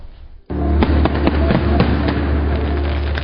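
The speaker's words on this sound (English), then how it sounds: "In Berlin, Germany, Chinese expats put on an impressive display of fireworks to usher in the Year of Ox" Fireworks let off by Chinese expats in Berlin, Germany, to welcome the Lunar New Year of the Ox: a loud, dense barrage of crackling bursts and sharp pops that starts abruptly and keeps going without a break.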